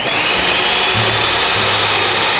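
An electric mixer whips cream for Thai-style milk buns, a loud steady motor whine that runs throughout, with a low hum coming and going partway through, and no voices.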